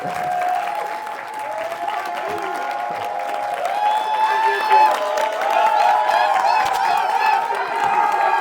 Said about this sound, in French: Un tonnerre d'applaudissements pour le Pasteur Johnson.